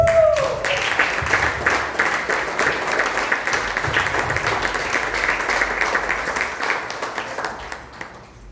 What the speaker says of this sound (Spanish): Denle un aplauso a estos 13